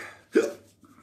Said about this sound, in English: Hiccups are back.